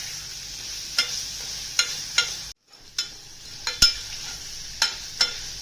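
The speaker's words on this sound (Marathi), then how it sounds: "भाजले गेले बघा चांगलं खोबरं, अद्रक, लसूण." Coconut, ginger and garlic roast in a tempering of hot oil for a village-style green pigeon pea curry, a steady soft sizzle punctuated by sharp spoon taps and scrapes against the pan.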